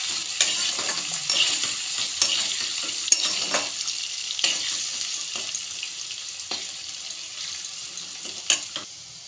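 Potato pieces frying in a pan with salt and turmeric, a steady broad sizzle with repeated scraping strokes of stirring, close and alone without talk.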